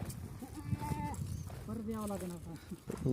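Bleats of pregnant Kathiawadi goats rise over a steady background of people talking on a goat farm, a few wavering cries spread across the clip.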